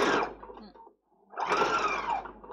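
A domestic sewing machine fitted with a clear open-toe presser foot stitches a duffle bag in two steady whirring runs, pausing briefly between them, close and clear with no talk.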